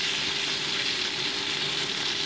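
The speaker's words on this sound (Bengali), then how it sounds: "ভালো মতো মিক্স দিয়ে আমি একটু ভেজে নিচ্ছি।" Pieces of bitter gourd fry in oil while being stirred, giving a constant close sizzle with a dense, even crackle and no break or talk.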